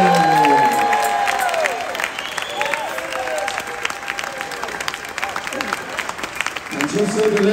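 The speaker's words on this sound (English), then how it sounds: "if you could please welcome him with a huge round of applause" Guests in the main dining room of the cruise ship Utopia of the Seas applaud and cheer Chef Jason, crowd clapping under loud voices and tonal calls, with a busy, reverberant room throughout.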